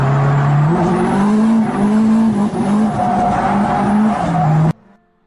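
A drift car's engine revs and blips its throttle in Kansai style, rising and falling in rapid, uneven pulses close by, with some tire noise. The sound cuts off abruptly near the end.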